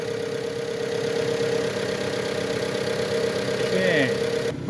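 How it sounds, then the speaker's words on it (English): A 2019 Jeep Compass engine idling at close range, a steady low hum with a constant tone and a brief whine near the end, with no voices. "Okay, with the motor running."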